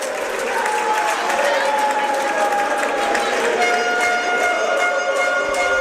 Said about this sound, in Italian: Tra gli applausi del pubblico rossoblu esce Ambrosio,